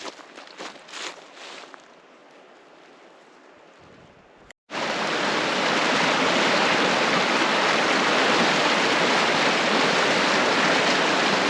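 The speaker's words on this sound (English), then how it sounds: "This is the Gila River." The Gila River flows in a loud, continuous rushing roar that starts abruptly after a few seconds of quieter outdoor ambience with faint crunching steps, then stays steady and close.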